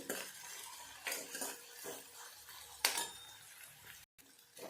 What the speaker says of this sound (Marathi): मी छानपैकी ते फ्राय करून घेते लो आचेवरती